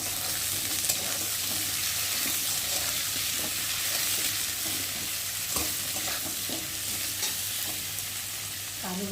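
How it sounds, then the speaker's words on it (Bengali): Potato pieces frying in a pan for a rohu fish curry with eggplant, a continuous busy sizzle with occasional stirring scrapes and clicks, close and steady throughout with no talking. "আলুটা একটু লাল লাল করে ভেজে নেবো"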